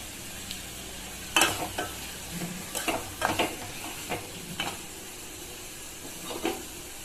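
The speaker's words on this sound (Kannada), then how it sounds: "ಇದು ಇವಾಗ ಕೆಂಪಗೆ ಫ್ರೈ ಆಗೈತೆ." Potatoes fry with turmeric in a pan for a potato curry, a soft, steady sizzle under scattered scraping clinks of a spoon stirring, close and fairly quiet.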